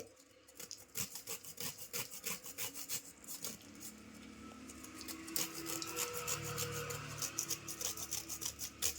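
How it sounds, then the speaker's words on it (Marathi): Nutmeg being grated by hand into veg biryani makes a rhythmic, close scraping rasp of repeated strokes, quiet and alone, running first in quick bursts and then as a more continuous rubbing. "आता यातच मी जायफळ आहे ना हे थोडंसं ते पण याच्यात किसून टाकते"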